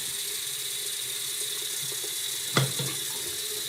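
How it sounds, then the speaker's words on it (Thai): Tap water runs steadily into a bathroom washbasin while its drain is tested, a constant hissing stream with one brief splash or knock partway through, close and alone. "ก็จะเอาน้ำเพราะอยากรู้นะครับว่าน้ำมัน ระบาย เป็นไงบ้าง"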